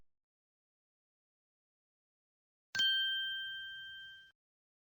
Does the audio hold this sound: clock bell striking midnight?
yes